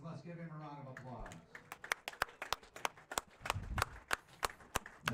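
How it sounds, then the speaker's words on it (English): After a brief voice, a sports bar audience applauds pool player Niels Feijen with sparse, crisp hand claps from a small crowd, fairly close and evenly spaced, continuing to the end. "Let's give him a round of applause."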